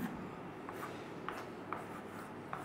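Marker or chalk strokes on a board during a chemistry lesson on phenol halogenation, a few short scratchy strokes spaced out over a steady background hiss, faint and with no talk.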